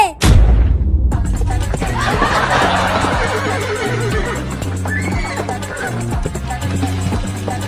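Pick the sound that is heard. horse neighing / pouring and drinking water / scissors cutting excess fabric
horse neighing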